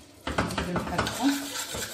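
A spoon stirs a melting butter mixture in a pot, making a few quick close scrapes and knocks over a soft sizzle.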